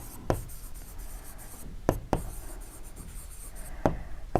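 Pen or marker scratching out a maths solution for a Class 10 linear equations problem, a continuous close scraping broken by a few sharp taps, with no talking.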